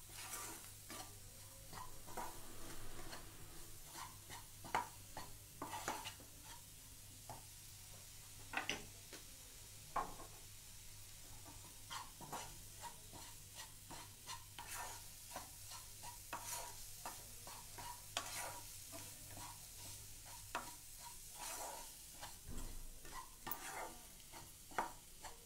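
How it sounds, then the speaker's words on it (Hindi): Halwa ingredients roasting in a pan on a low flame, a soft, quiet sizzle beneath a long run of regular scraping and stirring strokes, close but faint throughout, with no voices. "लो फ्लेम पर ही हम दोनों चीजें भून रहे हैं"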